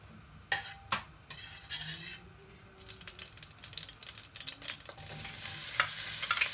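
Onion and other ingredients sautéing in a pan for kaldereta, a faint sizzle under sharp utensil clinks and scrapes, the frying swelling louder toward the end, with no talk.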